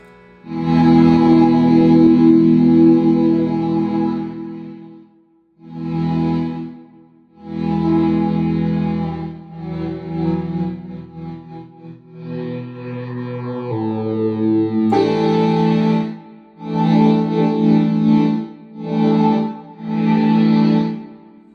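Synthesized tones triggered from a guitar through a Graph Tech Hexpander into a Roland GR-20 play in sustained phrases with gaps between them, shifting pitch, rich harmonics and an electronic, effected character.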